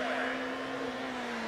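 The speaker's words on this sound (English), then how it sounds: "Round under the bridge, another MX-5 in the hands of Sean West." A Mazda MX-5 races at the Prescott hill climb, a brief steady engine drone held at constant pitch, moderately distant.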